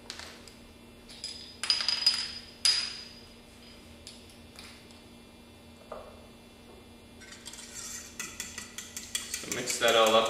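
A spoon stirs vanilla extract into a dairy-free flan custard in a bowl, giving soft scraping with scattered clinks of metal on the bowl, growing busier and louder toward the end.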